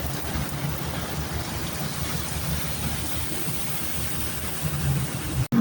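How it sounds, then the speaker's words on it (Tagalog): Light rain falls on a flooded street in Pasay outside a 5 Star bus stop, a steady, even hiss of drops on water that stays constant, with a brief break near the end. "Tumigil na ng konti yung ulan."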